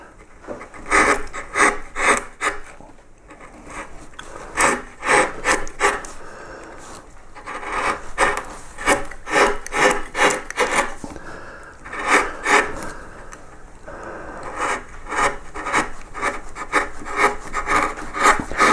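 Flat gouge carving a pierced wooden relief of a yellow flag iris, giving repeated rasping, scraping strokes in uneven bursts, close and fairly loud, with no talking.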